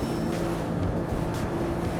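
A Ranieri Cayman 45.0 Cruiser RIB runs at 48 knots. Its engines hold a steady, moderately loud droning hum mixed with rushing wind and water noise throughout.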